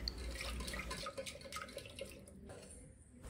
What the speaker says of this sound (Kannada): ಇದನ್ನು ನೀಟಾಗಿ ಒಂದು ಎರಡು ಸರಿ ವಾಶ್ ಮಾಡ್ಕೋಬೇಕು